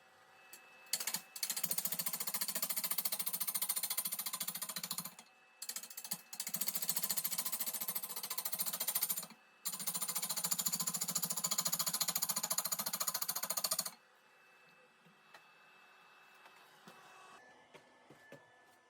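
A wood lathe roughs out a large hollow form turned between centres, the gouge cutting loud and steady in three long sustained bursts with a deep rumbling hum and short pauses, then dropping to a quieter idle whir.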